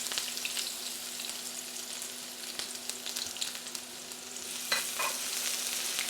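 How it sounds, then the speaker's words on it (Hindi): Onions frying in hot oil in a home kitchen, a continuous bright sizzle with crackles and a few louder spatters near the end, no voices. "प्याज को ऑयल में आप ऐड कर लें."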